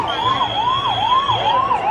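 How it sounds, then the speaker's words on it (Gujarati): A 108 ambulance siren wails in steady, rapid up-and-down sweeps, loud and continuous, while the vehicle is stuck in the Ahmedabad Rath Yatra crowd in 2024. "એક એમ્બ્યુલન્સ ફસાય છે, તેને કાઢવા માટેના પ્રયાસો શરૂ થયા છે."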